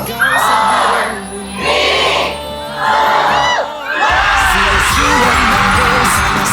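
A loud crowd at a Christmas Paskuhan celebration in the Philippines shouts and cheers in surging waves, with youthful voices whooping close by and the noise swelling repeatedly.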